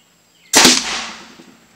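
A homemade potato launcher fires once outdoors with a sharp, loud blast that rings out and decays over about a second, with no talk during the shot.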